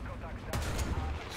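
A tank cannon fires at a Tiger tank in the War Thunder video game, one sharp, loud blast with a short rumbling tail, heard under a commentator's talk.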